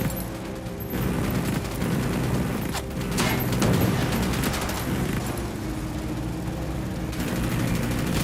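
Gunfire erupts during a firefight in Ghost Recon Wildlands, with a steady wash of rapid shots and booms under a continuous rumble of combat noise lasting the whole stretch.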